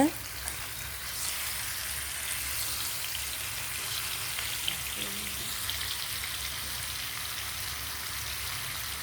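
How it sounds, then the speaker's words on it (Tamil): Two chicken leg pieces fry in hot oil in a wide pan on a medium flame, giving a continuous, even sizzle that stays steady throughout. "எண்ணெய் நல்லா சூடானதுக்கப்புறம் 2 சிக்கன் லெக் பீஸை சேர்த்திக்கலாம்"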